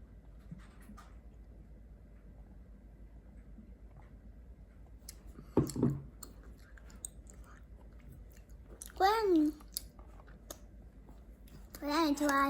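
A child chews chapssaltteok, a sticky Korean rice cake, with soft close mouth clicks and smacks alongside brief bursts of a voice.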